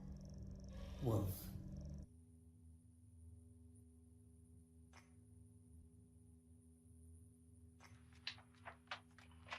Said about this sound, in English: Listen for the big bad wolf.